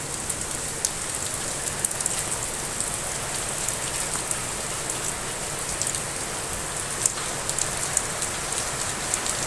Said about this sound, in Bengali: কি পরিমাণ বৃষ্টি আছে দেখুন আমার ক্যামেরার লেন্সে